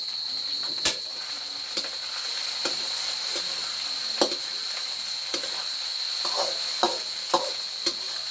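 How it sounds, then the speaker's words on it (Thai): Garlic, chili, galangal and lemongrass stir-frying in a pan, a steady bright sizzle punctuated by about a dozen sharp spatula scrapes and taps at uneven intervals. "นี่กระเทียม พริก มีข่า ตะไคร้ครับ ผัดให้หอมก่อน"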